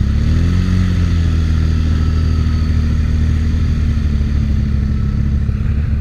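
A Can-Am Renegade XXC 1000 ATV engine on a winter ride in Kansas, a loud steady close drone with a tone that dips and rises early on, then holds evenly to the end with no talk.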